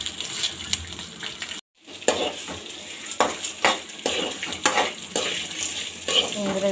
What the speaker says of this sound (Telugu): చూడండి, ఇలా ఫ్రై చేసుకోవాలండి వీటిని.